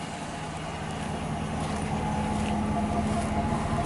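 A 2017 Dodge Ram Big Horn pickup with a Hemi V8 and dual exhaust runs steadily nearby, a continuous low rumble with a faint rhythmic pulse and no talking.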